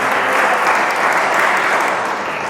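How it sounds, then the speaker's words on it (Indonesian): Congregation applauding in church during a sermon, a steady close wash of clapping from many hands that tapers slightly at the end. "Tepuk tangan untuk Tuhan Yesus."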